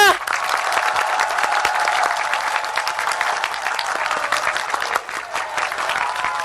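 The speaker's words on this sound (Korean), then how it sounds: "다시 한번 박수 부탁드립니다" Loud, sustained applause from a large crowd at a presidential campaign rally in Naju, South Korea, dense clapping that carries on without a break.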